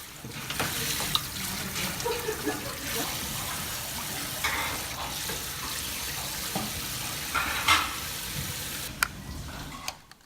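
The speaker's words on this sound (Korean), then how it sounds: "메밀면은 미끌미끌하기 때문에 미끌함이 없어질 때까지 씻어줍니다." Cold water runs over buckwheat soba noodles being rinsed, a steady bright splashing stream with intermittent sloshing and handling sounds, fairly close and alone without talk.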